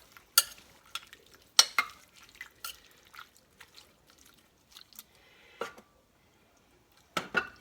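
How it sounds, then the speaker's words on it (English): Potato casserole ingredients being stirred in a crockpot: scattered spoon scrapes and wet squelching strokes in uneven bursts with quiet gaps, close and moderately soft, without talk. "I'm gonna put that in there and stir all this around"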